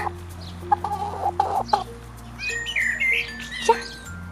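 Hens cluck and murmur close by, a few short bursts and drawn-out calls scattered over a low steady hum.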